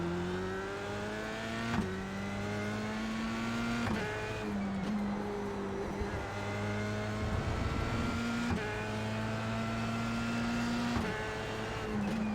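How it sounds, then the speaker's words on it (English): A Formula 3 race car engine in the iRacing video game whines steadily at high revs, pitch climbing through repeated gear shifts as it laps Brands Hatch, continuous and loud with no voices. "Meditate to the sound of the F3 going around Brands Hatch."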